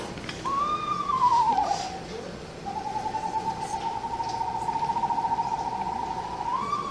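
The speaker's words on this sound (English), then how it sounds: "this is the sound of the eastern screech owl." An eastern screech owl's single long whistled trill, steady and fairly loud, preceded by a short descending whinny-like call, with a quiet outdoor background.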